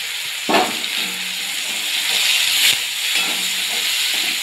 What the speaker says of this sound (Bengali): আমি দিয়ে দেবো পেঁয়াজ কুচিগুলো। পেঁয়াজ কুচিগুলো ভাজা ভাজা ভালো করে হয়ে যাক।